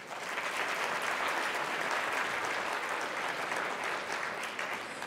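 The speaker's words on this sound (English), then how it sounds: "Ladies and gentlemen, a big round of applause for Pooja and Sandesh." A festival audience at a South Asian heritage celebration applauds two dancers, producing a sustained, even roll of clapping heard from within the hall, fairly soft overall.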